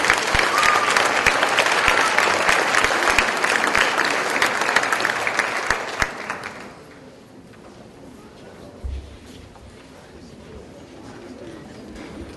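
Audience applause for students at a school awards ceremony, dense steady clapping from a crowd for about six seconds before fading out to quiet room tone with a brief soft bump.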